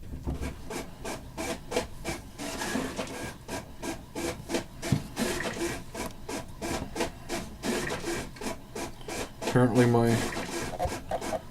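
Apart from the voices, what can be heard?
printer printing copies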